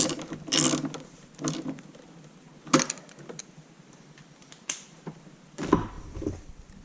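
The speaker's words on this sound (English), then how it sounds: "You're going to need our 11mm socket again to tighten these up." Socket wrench ratcheting as an 11mm socket snugs down the fuel pump bolts on a snowmobile, several short clicking bursts separated by pauses, close and fairly quiet with no talking.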